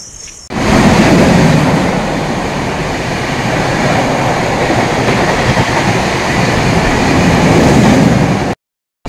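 Coromandel Express train at Belda station, a loud, close continuous rumble and rattle of the passing cars that starts abruptly and holds steady for several seconds before cutting off.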